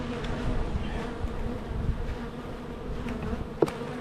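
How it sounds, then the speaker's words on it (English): Honey bees buzz steadily around a hive frame of capped cotton honey, a dense continuous drone with one brief sharp knock near the end. "Shake all the bees off."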